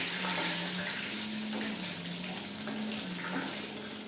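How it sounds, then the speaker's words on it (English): Tamarind extract poured into a pan of roasting spices for temple-style pulihora rice, a steady close liquid stream and splash with a faint sizzle underneath, no talk. "I am going to add our tamarind extract, which is a key ingredient to our pulihora rice."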